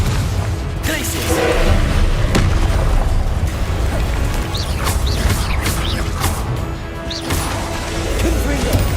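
Repeated booming blasts from Confringo fire spells in the Hogwarts Legacy video game, loud and dense over a constant rumbling game score, with shouted spell incantations between the bursts.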